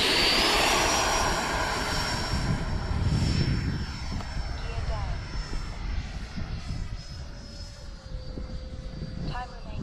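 A Freewing Avanti S RC jet plane flies on an evening, its motor whining steadily and loudly at first, then fading into a thinner distant hum.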